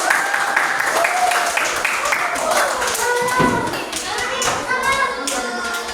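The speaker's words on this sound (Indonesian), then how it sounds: "Tepuk tangan buat kelompok." Children in a fifth-grade classroom clap together for a group, brisk uneven clapping close by with kids' voices and chatter running over it throughout.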